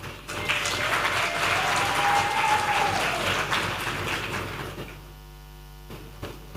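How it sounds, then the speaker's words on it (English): Audience applause for President Museveni at a Ugandan government event unveiling the UTCL brand: dense, steady clapping fills the space for about five seconds, then drops away abruptly, leaving a low electrical hum. "I want us to put our hands together and clap for His Excellency General Yoweri Kaguta Museveni"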